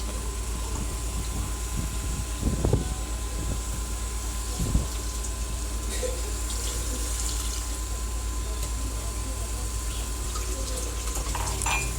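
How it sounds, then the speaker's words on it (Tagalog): Water pours steadily from a tap into a cooking pot for chicken sotanghon soup, a continuous splashing hiss with a couple of brief knocks and clinks early on. "maglalagay po tayo ng tubig. Yun na po yung pinaka sabaw ng ating sutanghon soup"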